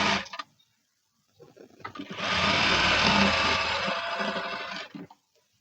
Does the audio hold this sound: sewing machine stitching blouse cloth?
yes